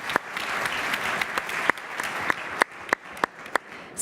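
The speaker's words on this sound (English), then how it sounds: "One more big round of applause," Audience applause at a startup pitch event in Berlin, a steady wash of clapping across the whole stretch with sharp individual claps popping out near the front, tapering slightly toward the end.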